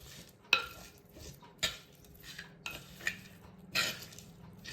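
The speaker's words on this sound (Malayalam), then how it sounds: "പിന്നെ സവോള ഇടുക, കറിവേപ്പില, തക്കാളി, ഇഞ്ചി, പച്ചമുളക്," Onion, curry leaves, tomato, ginger and green chili being mixed in a pot for a Kerala-style prawn curry, giving a few sharp metal spoon scrapes and clinks against the pot at irregular intervals, fairly quiet with no talking.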